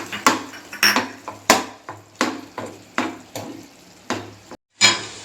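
Spoon stirring carrot halwa with ghee and khoa in a pan, about ten separate scraping strokes in an uneven rhythm, close and clear with a faint sizzle underneath.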